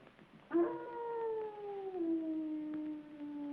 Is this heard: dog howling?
yes